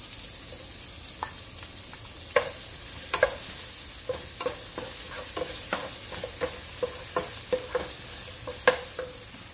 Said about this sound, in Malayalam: ഇനി ദേ ബാക്കി കിടക്കുന്ന ഈ എണ്ണയിലേക്ക് ഞാൻ അരിഞ്ഞു വെച്ചിരിക്കുന്ന ഒരു പകുതി ഓണിയൻ, ഒരു ചെറിയ കഷ്ണം ഇഞ്ചി, ഒരു രണ്ട് അല്ലി വെളുത്തുള്ളിയും